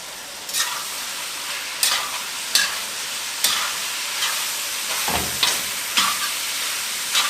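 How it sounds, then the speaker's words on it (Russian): Meat and carrots sizzle and crackle in a hot pan, with periodic bursts of hissing as they are stirred every second or so. "И жарим еще минут 5 с морковкой"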